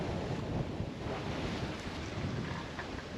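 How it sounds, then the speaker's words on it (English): On a sailboat out at sea in 20-knot gusting wind, ocean waves wash and roar steadily as strong wind buffets the microphone. The noise is dense and continuous, with no voices. "still 20 knots of wind, gusting up till 24, and but the waves are a bit less big"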